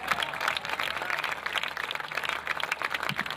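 Audience applauding at an Urdu mushaira poetry gathering, a dense, steady patter of many hands clapping, fairly faint and continuous with no talk on top.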